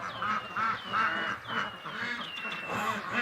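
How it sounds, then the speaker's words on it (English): Canada geese and ducks honk and quack in a loud, overlapping chorus, with repeated nasal calls close by and no talking. "We're really getting quite a population of Canada geese here."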